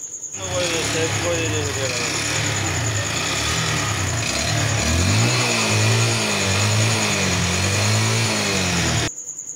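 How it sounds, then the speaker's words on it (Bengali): A Hero Super Splendor motorcycle engine, freshly topped up with oil after a starting problem, runs steadily at a close, loud idle with a wavering throb throughout, then cuts off near the end. "আমি ইঞ্জিনের মোবিল ঢেলে গাড়িটাকে স্টার্ট করেছি।"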